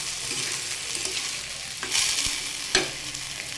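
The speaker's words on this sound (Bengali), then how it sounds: "এবার এটাকে হচ্ছে কম আঁচে একটু একটু করে মিশিয়ে মিশিয়ে ভাজতে হবে।" A sabudana mixture with potato and tomato fries gently over low heat, a continuous bright sizzle punctuated by a couple of louder stirring scrapes, with no speech.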